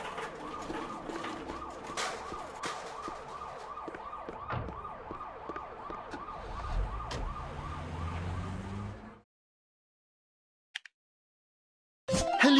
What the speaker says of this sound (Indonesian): Ambulans.